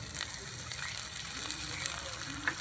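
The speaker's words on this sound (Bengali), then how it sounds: "রসুনটাকে একটু ভেজে নিয়ে দিয়ে দিচ্ছি গ্রেট করে রাখা আদা" Grated ginger and garlic fry in oil for an egg fried rice, giving a soft, steady hiss and sizzle with faint crackles throughout, fairly quiet and continuous.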